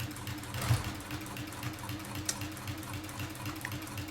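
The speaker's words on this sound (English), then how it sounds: "slowly sew along my line here" A sewing machine slowly stitches a quilting line on a bag, a soft, close, rhythmic mechanical whir with small clicks and no talking.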